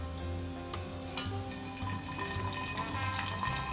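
Home-brewed kombucha draining from a brewing vessel through its spigot, a continuous trickling, splashing flow of liquid, close and steady for the whole stretch.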